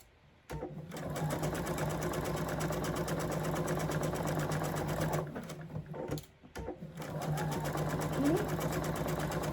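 A sewing machine runs steadily as it stitches a pieced quilt block under the needle, with a brief pause and restart midway and a low continuous motor hum throughout.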